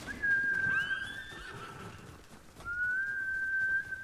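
A horse whinnies in the samurai game Ghost of Tsushima, with two sustained high tonal calls separated by a brief pause, close and fairly loud against a soft background.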